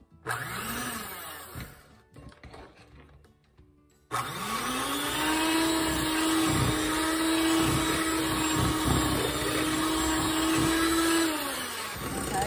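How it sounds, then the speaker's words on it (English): Electric hand mixer whirring steadily as it creams cake box mix cookie dough, starting with a short burst, a brief pause, then a loud continuous drone that slightly shifts pitch as the beaters work the dough. "I'm going to use my hand mixer to mix it up"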